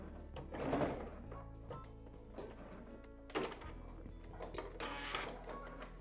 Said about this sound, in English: I'm going to give this a good backstitch.